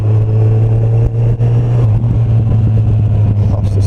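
A Yamaha FJR 1300 motorcycle engine drones loudly and steadily on the road, a deep continuous hum with rumbling wind, heard from the rider's position.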